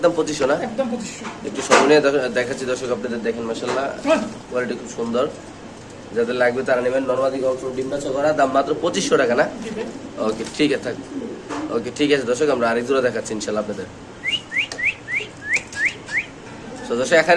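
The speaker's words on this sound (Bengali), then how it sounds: "আছে আরেক জোড়া কবুতর আপনি দেখতেই পাচ্ছেন" A pair of pigeons for sale coo repeatedly at close range, their soft rolling calls running under ongoing conversation, with a quick series of short bird calls near the end.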